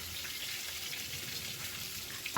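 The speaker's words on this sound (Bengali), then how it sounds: "পিসগুলো নর্মালি ভেজে নিলাম" Pieces of hilsa fish frying in oil, a steady soft sizzle that crackles evenly throughout, ending with a sudden sharp clatter.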